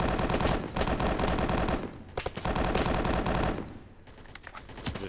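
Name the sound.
gunfire in the video game BRM5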